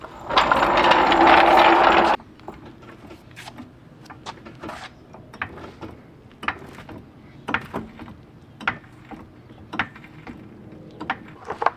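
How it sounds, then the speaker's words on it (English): A ratchet turning thick impact sockets on the brakes of a Volkswagen GTI, a loud whirring burst at first, then a long run of quick clicking pawl ratchets, close and alone. "if you guys don't have these super thick sockets, they work amazing"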